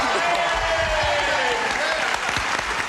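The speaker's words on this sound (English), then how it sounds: "Applause, applause, applause." Studio audience applause on a TV game show as two contestants are introduced, a loud, continuous wash of clapping with voices and cheers mixed in.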